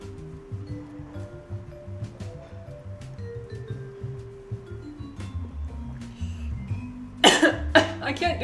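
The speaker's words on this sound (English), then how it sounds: "I can't do that without coughing." A person coughs after sipping wine, a burst of harsh coughs near the end following quieter throat noises over a low background hum.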